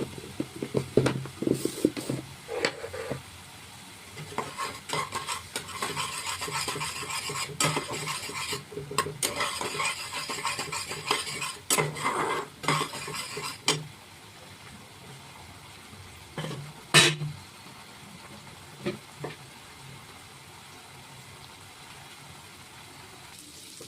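A spoon stirring and scraping spices with salt, turmeric and Kashmiri chilli powder in a hot pan, with bursts of sizzling and clinking, busy at first and then quieter with occasional scrapes.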